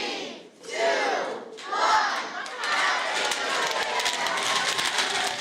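A crowd in Green Bay cheers and roars at the stroke of midnight on New Year's Eve, a loud, dense, sustained wash of shouting and whooping that rises after a few early bursts.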